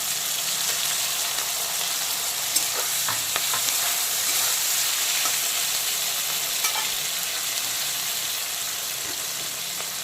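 Chopped onion, tomato and green chilli fry in hot oil with a continuous close sizzle, broken by a few light scrapes and taps from stirring, no voices present.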